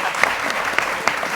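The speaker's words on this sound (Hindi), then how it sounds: "जोरदार तालियों में" Studio audience on a Pakistani morning TV show breaks into loud applause, a dense burst of many hands clapping with a few sharper individual claps standing out, close and full.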